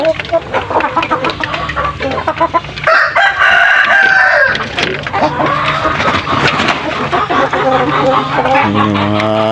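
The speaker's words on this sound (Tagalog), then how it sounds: "Upgraded native chicken at saka yung manok panabong mayroon tayo" Backyard native chickens and fighting roosters crow loudly and close, with repeated clucking between long drawn-out crows and other birds calling in the background.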